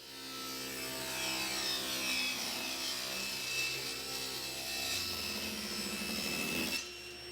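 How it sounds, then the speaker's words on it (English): A power saw rips thin strips from wooden boards for cutting boards, a sustained close buzzing rasp of blade through wood that holds steady for several seconds before the cut ends and the sound drops away. "turn on the saw, and make your cut"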